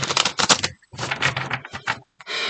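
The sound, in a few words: shuffling large tarot cards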